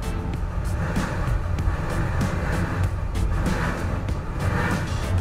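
A 2020 Toyota Prius AWD-e under heavy throttle on a slip test: a steady, dense drone of engine and tire noise, continuous and fairly loud, with no talking.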